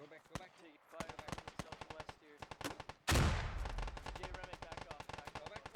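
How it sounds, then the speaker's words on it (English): Gunfire in a squad-based shooter game: rapid rattling automatic bursts, then a heavy explosive thump from a grenade launcher followed by sustained fast firing, loud and close, with a voice commentating over the action. "J Remick throwing some grenade launcher shots forward"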